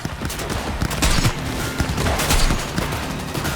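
Dense, loud gunfire rattles almost continuously in a Cyberpunk 2077 firefight, rapid bursts overlapping with booming impacts close up throughout.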